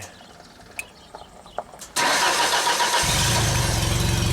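A Genie lift engine cranks with a brief whir, then catches and starts, settling into a loud, steady idle; a few faint clicks and knocks come before it starts.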